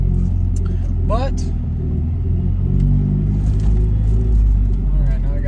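Car engine fitted with a Weber 32/34 carburetor pulling hard under acceleration, a steady loud low rumble throughout with a driver talking over it.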